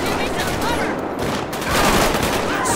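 Heavy gunfire during a gang shootout in the video game GTA 5 with SWAT police, a dense, continuous barrage of overlapping shots and bursts throughout.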